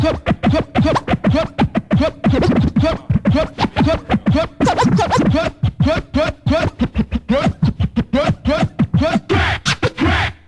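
Rapid, choppy turntable scratching bursts in a fast stuttering rhythm with a gritty, slightly distorted edge, loud and continuous with no talking.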